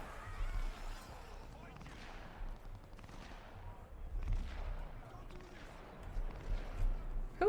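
Scattered gunfire bursts from Cyberpunk 2077 play out over a dense, rumbling game soundscape, the shots overlapping and recurring irregularly across the stretch.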